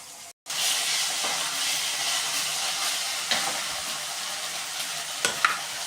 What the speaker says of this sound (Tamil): இப்போ இஞ்சி பூண்டு பேஸ்ட்டை போட்டாச்சு